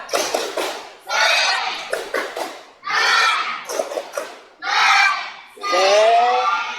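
A class of students performs the tepuk semangat clapping chant during an Islamic education lesson, with bursts of group clapping patterns alternating with loud shouted chant words, repeating in a rhythmic call-and-clap cycle.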